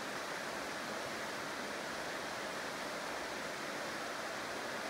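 Flowing river water in the Ken Lockwood Gorge below a high railway bridge, a steady, even rushing hiss without breaks or variation, soft and continuous with no voices.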